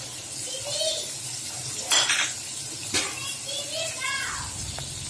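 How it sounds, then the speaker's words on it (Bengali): Ground spices such as cumin and turmeric, with salt, being stirred together in a bowl for chapa shutki dishes, giving soft scraping and clinking sounds in a busy kitchen with voices nearby. "এভাবে আমি সবগুলো মশলা মিশিয়ে নিব একত্রে।"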